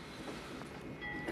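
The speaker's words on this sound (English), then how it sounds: "Train!" A passing train rumbles steadily as a continuous broadband roar of railway cars, fairly faint and distant, with no talk over it.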